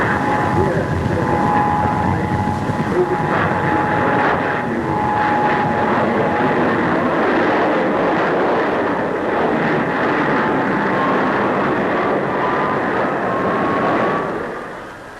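An English Electric jet aircraft roars overhead at a 1950s Farnborough air show, a loud, steady broadband rumble and whine holding for about fifteen seconds before easing slightly at the end.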